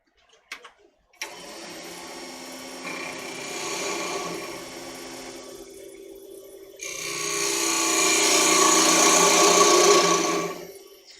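Cutting a mortise in wood on a workshop machine: a few short knocks, then a sustained rasping, grinding drone that pauses briefly and returns louder, close and steady, with no talk.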